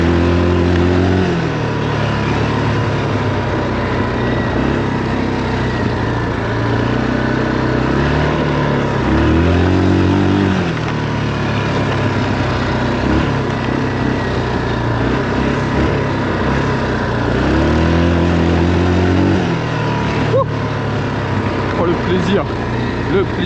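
A Yamaha 350 quad ATV engine rumbles up close in a forest, revving to a higher pitch a couple of times before settling back to a steady drone.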